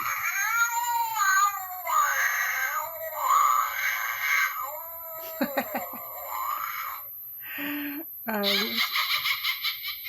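A cat meows and yowls repeatedly from a Halloween noise maker, drawn-out, wavering cries, tinny and electronic like a toy's playback, ending in a burst of rapid squeaky calls.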